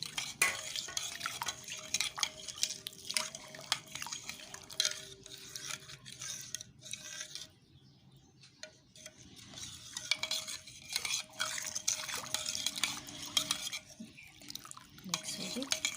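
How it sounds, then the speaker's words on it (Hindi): A spoon stirs a kunde ki tikiya mixture made with hot milk in a kitchen, giving steady, soft scraping and clinking against the pot with faint wet sounds, brief pauses and a high hum in the background. "थोड़ी देर में फिर मैं इसमें चमचे चला दूँगी"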